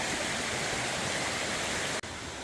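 A stream rushes beside a bridge on the Appalachian Trail, a steady, close, full wash of flowing water that breaks off for a split second near the end.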